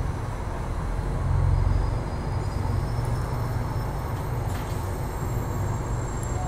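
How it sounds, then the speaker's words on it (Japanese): A limited express bound for Wakkanai pulls out of Sapporo station at 7:30, a steady low rumble of wheels and car noise heard from on board, building slightly and then holding even, with no talking. "列車札幌駅を出発します"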